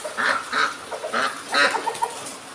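Several short nasal squawks and clucks from chickens being fed vegetables, close by and fairly loud, with a bit of background noise between the calls.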